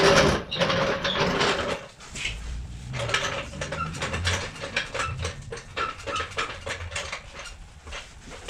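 A ratchet wrench works on the oil pan bolts of a 2004 Ford Escape 3.0, clicking in quick repeated bursts at close range with clanks and shuffling between strokes and no voices.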